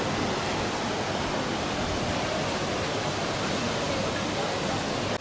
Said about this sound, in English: So, Louie, here we are at Tegenungan waterfall.